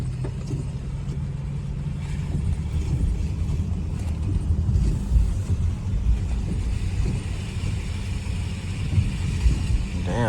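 A Chrysler 300S follows behind with a Dodge Scat Pack on a rainy drive, its low engine rumble and road noise steady and close inside the cabin, with some wind buffeting, no voices.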